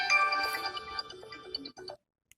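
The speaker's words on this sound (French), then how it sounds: "le téléphone qui sonne" A telephone rings indoors in a short tonal electronic burst with several repeated pulses, fairly loud and close, then cutting off into near silence with one faint click at the end.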